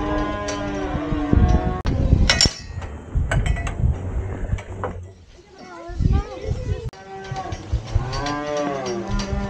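Cattle in a herd of cows and bred heifers moo several times, some calls long and close, mixed with metallic clanks and brief human voices.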